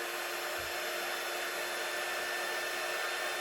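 A handheld heat tool blows hot air while card making, a steady, close, fairly quiet hiss and whir that runs unbroken throughout with no talking.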